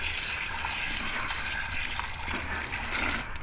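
Water running and splashing steadily as it flushes out the brain cavity of a raccoon skull being cleaned, a continuous close hiss of liquid with no talk.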